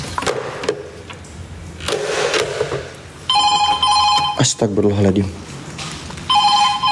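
Old telephone bell ringing in a haunted laboratory, two bursts of insistent electric ringing in the second half, loud and close, with people speaking anxiously before and between the rings.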